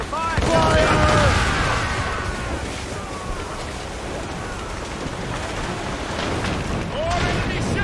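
Naval cannon broadside during a ship battle in Assassin's Creed Rogue: dense rumbling booms and crackling blasts under continuous roar, with shouted crew voices over the din.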